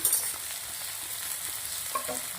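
Vegetables sauté in a pan for multi cheese pasta, a steady close sizzle with faint crackles and a light stirring scrape, no voices.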